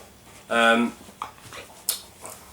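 A dog gives one short, near whimpering yelp with a rising harmonic whine, followed by a few faint snuffs and soft thumps in a quiet indoor room.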